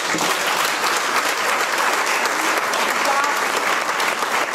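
A church congregation applauding and cheering for the Lord during a worship service, loud continuous clapping filling the whole space without a break.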